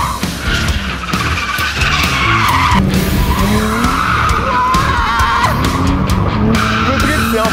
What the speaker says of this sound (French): Le drift, c'est de la folie.